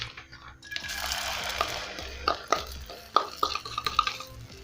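Egg omelette mixture poured into a hot oiled pan, a soft sizzle beneath metallic clinks and scrapes of a utensil against the pan, fairly close.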